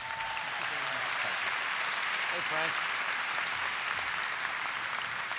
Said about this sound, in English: he deserves our applause